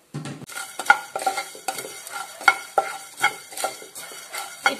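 Dry coriander seeds stirred in a hot pan for a Kerala chicken curry, giving a repeated scraping and rattling of spoon against metal with light crackle, close and steady, no talk.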